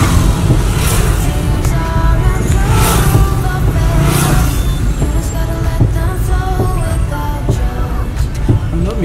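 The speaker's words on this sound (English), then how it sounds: "No music in here, all the noise the car makes." Inside a car on a road trip to Sinkor in Monrovia, Liberia, a constant loud road and engine rumble fills the cabin, with occasional bumps and rattles and no music.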